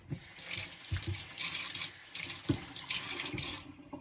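Tap water runs steadily into a sink while leeks are rinsed, a close hissing splash that rises and dips in bursts, with occasional knocks and no talking.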